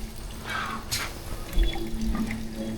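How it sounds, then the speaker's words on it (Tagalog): Weak tap water flows steadily and quietly at a house under construction, with a thin trickle and a few soft splashes. Faint background noise from the building site runs underneath. "Mahina pa rin tubig no?"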